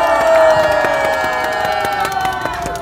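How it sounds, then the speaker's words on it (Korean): A large crowd at a political rally cheers to welcome a party leader onto the stage, steady roaring shouts and voices with sharp clapping accents running throughout. "큰 박수로 환영해 주십시오"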